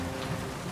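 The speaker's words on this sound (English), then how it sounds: "The rain beats against the office window." Heavy rain beats against an office window in the video game World of Goo 2, a dense, steady hiss of drops with no other sound in the brief moment.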